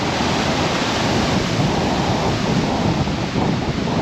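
Sea waves break and surge in a continuous, loud, broadband wash, with wind buffeting the microphone throughout and no voices present.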